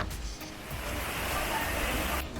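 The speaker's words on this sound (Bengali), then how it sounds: "এখানে আসলেই কিন্তু শোনা যাচ্ছে পাহাড়ি ঝর্ণার কলরব শব্দ" A steady rushing roar of falling water, broadband and continuous, from a mountain waterfall near the Rock Garden in Darjeeling during the monsoon, heard from a short distance.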